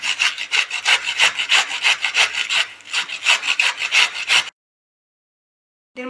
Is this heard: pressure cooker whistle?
no